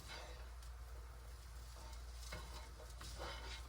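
Chicken and onion stirred in a pan, a spoon scraping and clattering in a few soft strokes over a steady low sizzle, close by with no talking.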